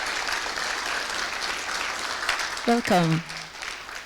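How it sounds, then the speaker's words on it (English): Applause from a tech conference audience at PyCon Africa 2025 greeting a platinum sponsor session, a moderate wash of clapping at some distance, with a brief spoken welcome near the end. "Round of applause, please."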